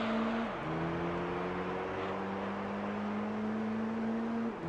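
Daihatsu car in the Gran Turismo 3 video game driving steadily, its engine tone holding a continuous harmonic whine that dips briefly at a gear change then climbs slowly again, loud and alone.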